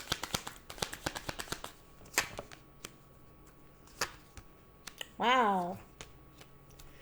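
Tarot cards shuffled and pulled for a love reading, a quick run of crisp riffling clicks followed by a few isolated snaps, with a brief exclamation from a voice.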